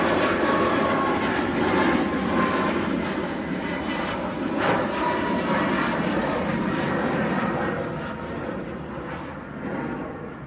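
An Air Malta airliner takes off from Manchester Airport, a loud broad jet engine roar that stays strong and sustained, then eases slightly toward the end.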